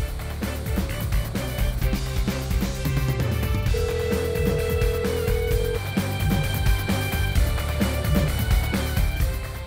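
A telephone rings repeatedly and goes unanswered in an Indonesian drama scene, its ringing tone sitting amid a dense, continuous background of music and room sound at steady loudness.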